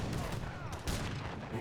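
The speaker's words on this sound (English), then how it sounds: "Heavy cannon doing some wailing now" A heavy cannon fires in the real-time strategy game Age of Empires 3 amid a dense, noisy wash of battle gunfire and booms that keeps going throughout, with a faint voice talking underneath.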